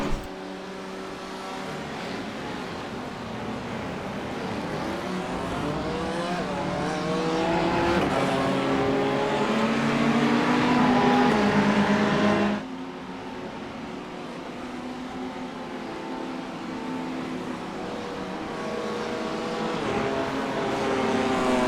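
A race car in the iRacing sim, running a three-hour Le Mans race, chases a black Ferrari with a steady, loud engine drone that climbs in pitch and then drops suddenly at a gear change before building again.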